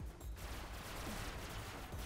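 Gunfire in the Robocraft video game, a dense steady barrage running through the whole stretch at moderate level, with no clear separation between shots.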